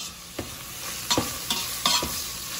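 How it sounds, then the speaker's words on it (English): Spaghetti sizzling in a frying pan is stirred, a steady close-up hiss broken by several scraping, clinking strokes of the utensil against the pan. "This is the part where you're supposed to mix it up."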